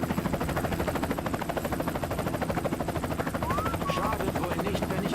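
Helicopter rotor in the video game Splinter Cell: Chaos Theory, a steady loud chopping throb running throughout with constant engine drone, under someone speaking German.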